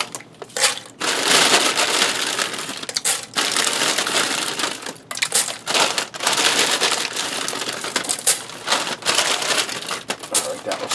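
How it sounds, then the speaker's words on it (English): Dry white egg noodles tumble from a one-pound bag into a skillet holding heavy cream, a loud, close crinkling rustle of the bag with scattered clattering noodles, broken by short pauses. "And 8 ounces of white egg noodles. This is a 1 pound bag, so I'll throw in half."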